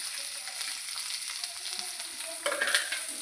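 Urad dal, shallots, dried chillies and curry leaves sizzling steadily in hot oil while being stirred, a continuous close crackle that grows briefly livelier near the end.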